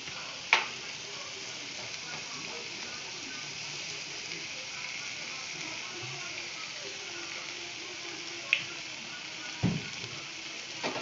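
Spice masala with tomato ketchup and a little turmeric frying in a pan for egg curry, a steady low sizzle throughout with a few sharp utensil clicks near the start and end, with faint speech.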